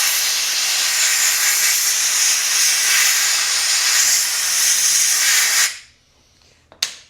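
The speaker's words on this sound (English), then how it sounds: "Go ahead and blow out any junk and gunk in there." Compressed air blasting out the needle bearings of a Piaggio Ciao moped, a loud, steady hiss held for several seconds before cutting off abruptly, followed by a couple of faint clicks.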